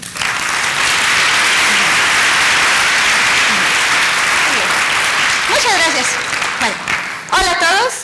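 An audience at a popular science talk on dog brains and cognition breaks into sustained, dense applause close by, fading near the end as a speaker's voice begins.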